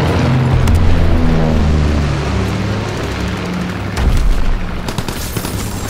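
Deep rumbling booms from enemy bombs rolling through a Call of Duty WW2 match on the Gibraltar map, loud and continuous, with a fresh low blast near the end.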